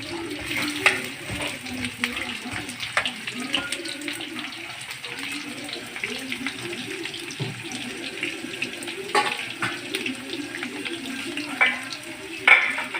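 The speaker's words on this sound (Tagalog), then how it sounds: "igigisa na. Magigisa na tayo." Fried chicken sizzles and crackles steadily as it is sautéed in a hot pan for pochero, with occasional scraping and stirring clatter and a splash of running water.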